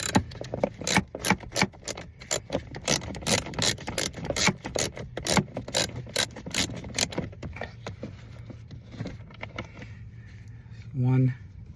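A ratchet loosening blower motor bolts on a 2000 Chevy Silverado gives fast, close, repeated clicking for about seven seconds, slows into scattered clicks, then ends with a short thud.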